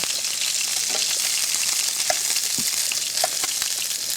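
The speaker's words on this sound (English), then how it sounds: "All their juices remain in that pan, so that's what we're going to fry our onions in" Onions sizzle in meatball juices left in a pan, a close, steady hiss and crackle with scattered pops and no voices.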